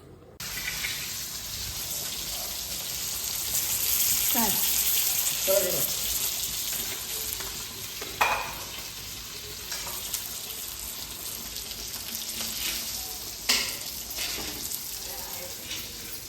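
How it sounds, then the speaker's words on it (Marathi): Marinated surmai fish with lemon frying in a pan, a steady sizzle running throughout with occasional stirring and clinks over it, recorded close. "आता जाणार हे पण फ्रायला"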